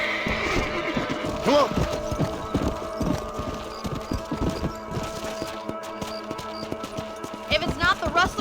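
In the video game Red Dead Redemption, a horse neighs twice amid steady clip-clop of hooves on a ranch, with a voice speaking briefly over the riding sounds.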